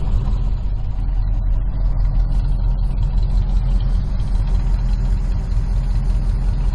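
A 1976 Pontiac Firebird Formula with a 400 engine idles steadily, a loud, close, deep rumble with a regular lopey pulse and no talking.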